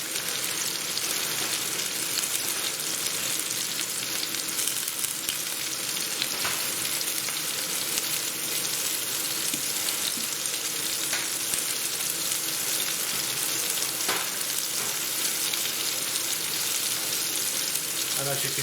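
Beef strips coated in potato starch fry steadily in hot oil, a constant dense sizzle with occasional faint stirring and a high whine running beneath.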